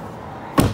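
A small metal door on a 3 bag coal bunker swinging shut with a single close, solid slam and thud at the very end, after a brief stretch of quiet room tone.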